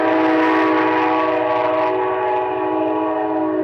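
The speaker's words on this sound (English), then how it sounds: "And that, of course, is our local train." A local train passes with a loud, sustained horn blast that holds steady and slowly fades, along with the rumble of the rail cars.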